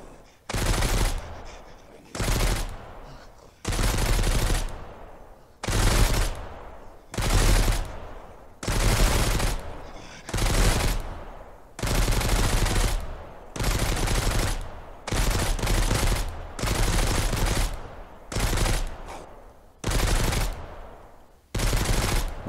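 Gunfire at a large bandit camp held by snipers in the survival video game Mist Survival, loud repeated shots each ringing out with a short echoing tail, separated by brief gaps over a long stretch.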